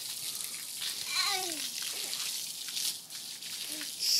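Water from a garden hose splashes in broken spurts, with a child shrieking and squealing nearby and faint talk in the background.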